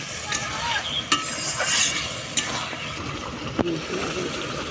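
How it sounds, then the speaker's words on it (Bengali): Vegetables and ground turmeric, cumin and chili powder fry in a pan for a Bengali fish curry, a close continuous sizzle with brisk stirring and a few sharp scraping knocks of a spatula, no voices. "সবজির সাথে মশলাগুলো এবার খুব ভালো করে কষিয়ে নেব।"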